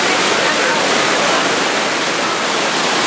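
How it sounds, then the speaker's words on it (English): Dunn's River Falls in Jamaica, heard from the base of the cascade where it meets the ocean, a loud, dense, unbroken roar of rushing water filling the whole space. "We're at the base of the falls."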